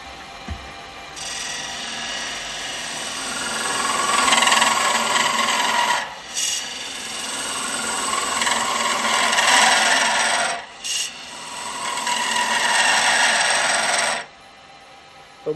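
A spindle gouge cuts a wooden log spinning on a lathe, a steady rasping scrape that swells and fades over a continuous motor hum, broken by a few brief pauses.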